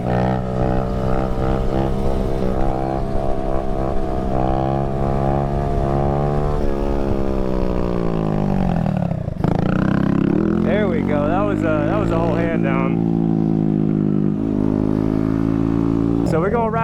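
A Honda Grom motorcycle engine runs at its stock idle without any raised idle setting, a loud, close, continuous rumble whose pitch dips and climbs as the throttle shifts.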